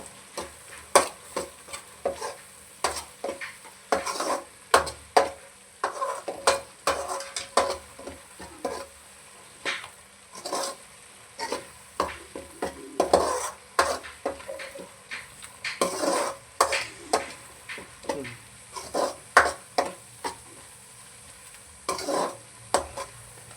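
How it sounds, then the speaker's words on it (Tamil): Chili powder being stirred into mutton curry frying in a pan, with repeated spoon scrapes and clinks against the pot over a soft continuous sizzle, in irregular strokes throughout. "மிளகாய் பொடி ரெண்டுத்தையும் போட்டோம் நல்லா மிக்ஸ் பண்ணி விட்டுக்கலாம்"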